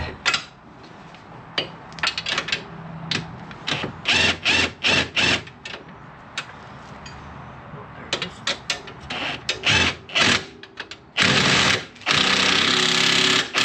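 A hand wrench works on the rear sway bar bolts of a 2023 Can-Am Commander, giving bursts of rapid ratcheting clicks in uneven runs with short pauses, close and fairly loud, ending in a longer steady grinding stretch.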